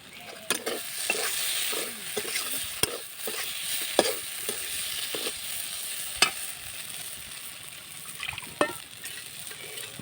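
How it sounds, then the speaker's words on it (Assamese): Fish pieces frying in a pan for a sour fish curry give a soft, steady sizzle, broken by sharp scrapes and taps of a spatula stirring them. "তলত লাগি নোযোৱাকৈ ভাল ধৰণে ভাজিব লাগিব"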